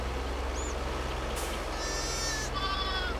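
Sheep bleat in a Farming Simulator 22 pasture, a couple of nasal wavering calls rising over a steady low engine drone from farm machinery.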